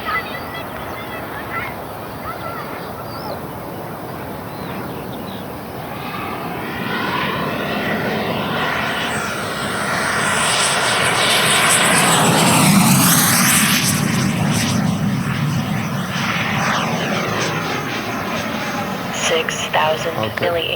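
A Black Horse Viper XL electric ducted-fan model jet with a 100 mm WeMoTec Midi EVO fan on a 14S pack flies past. A steady high whine swells louder near the middle and then fades, with talk running under it.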